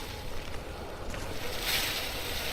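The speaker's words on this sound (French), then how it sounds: "Je ne vois pas encore la côte, mais j'entends des vagues." Ocean waves in the audio game A Blind Legend, a steady broadband wash of surf and wind, continuous and moderately loud throughout, with no voices over it.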